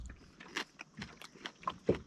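Crunchy mouthfuls of fresh salad with nectarine, pawpaw and chili eaten outdoors while boat camping, quiet close chewing with a series of soft irregular crunches.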